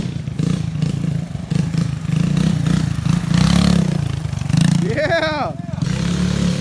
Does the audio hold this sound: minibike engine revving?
yes